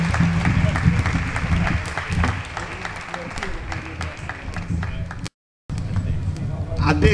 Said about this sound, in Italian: facciamogli un grandissimo applauso